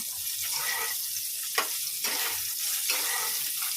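Cauliflower florets fry in hot oil in a pan with a dense, steady sizzle and crackle, while occasional sharp spits and clicks of stirring break through the constant hiss.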